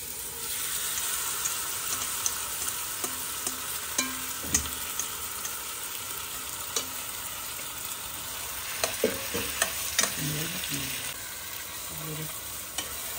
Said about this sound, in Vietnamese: Rồi bây giờ mình sẽ xào cho nó săn cái thịt lại ha.